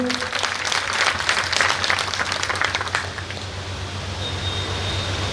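Audience clapping at a Raghunath temple gathering in Madhapar, a dense, steady patter of many hands that fades to a faint room hum by the end.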